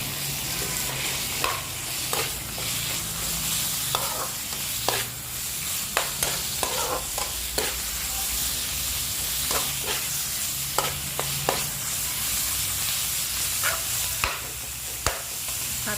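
Crocodile meat being stir-fried with curry paste in a pan gives a steady, close sizzle throughout, broken by frequent sharp scrapes and taps of a spatula against the pan.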